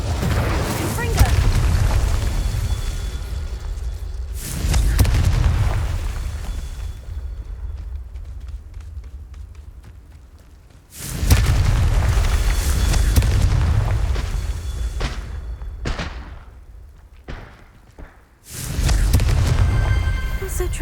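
Confringo spell blasts in the video game Hogwarts Legacy erupt as loud, deep booms, several heavy explosions each rolling into a long fading rumble before the next hits.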